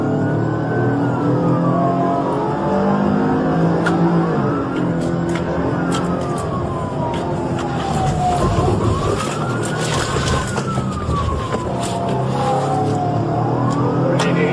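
Police car siren wails in rising and falling sweeps over steady road and engine roar during a high-speed police chase at about 70 mph, loud and continuous throughout.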